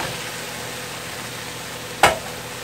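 Pre-cooked white rice stir-frying in a pan, a low steady sizzle with a single sharp clack of a utensil against the pan about two-thirds through.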